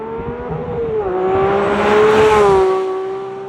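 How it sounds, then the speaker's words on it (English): A 2024 Porsche 911 S/T engine revs up and holds a high, rising whine, the exhaust roaring loudly and close by before it eases back down. No talking. "We'll put some exhaust clips, some revving, some fun portions right now."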